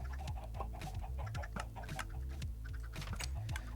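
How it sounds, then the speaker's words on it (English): Chickens cluck in Minecraft Bedrock Edition, a string of short, soft, quick clucks in an irregular rhythm against a quiet background, with faint clicking mixed in. "let's go get some chickens"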